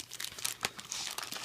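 Packaging for a Black Web gaming keyboard being opened, with close, broadband plastic and cardboard crinkling and rustling and a few sharper crackles and tearing bursts across a short stretch.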